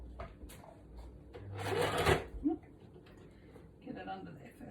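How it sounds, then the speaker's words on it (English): Sewing machine stitching eyelet lace onto the edge of a handmade junk journal, a brief burst of motor whirring in the middle, with quiet handling noises and someone talking softly around it. "I'm just going to sew down that piece of eyelet lace onto the edge."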